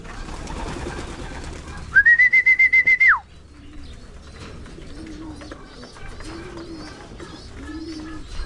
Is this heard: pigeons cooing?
yes